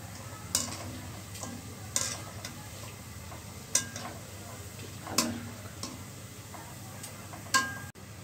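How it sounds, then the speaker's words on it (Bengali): Boondi frying in hot oil on a stovetop for homemade chanachur, a steady low sizzle broken by a few sharp ticks and taps of a utensil against the pan at irregular intervals. "এভাবে করে আমি সবগুলো বুন্দিয়া ভেজে নিব।"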